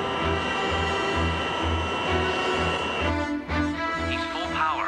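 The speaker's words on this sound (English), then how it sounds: "He's full power. He's gonna roll." Airliner jet engines run up to full power as the takeoff roll begins in a 1985 action film scene, a loud steady roar with pulsing low rumble and a brief dip partway through, continuous throughout.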